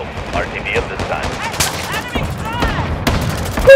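Rapid automatic gunfire rattles through a Call of Duty: Modern Warfare II match, dense overlapping shots with a sharper burst near the end, under urgent shouted voices.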